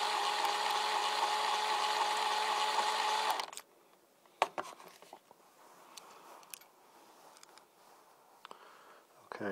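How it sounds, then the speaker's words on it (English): A power drill unscrews the saddle housing from the back of a Babicz FCH-4 bass bridge, a steady close whine for several seconds that stops abruptly, followed by faint clicks and handling of the small metal hardware. "now you want to remove the saddle housing, and I use a power drill in the back to unscrew it"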